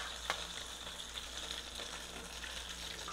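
Seafood cordon bleu frying in a pan until golden brown, a steady, close hiss of bubbling oil with faint crackles and a soft tap near the start, continuous and quiet, with no talking.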